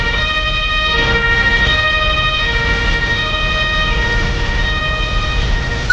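A wailing ambulance siren from the EMERGENCY rescue simulation game, loud and steady with layered tonal sweeps over vehicle rumble for the whole stretch, no talking.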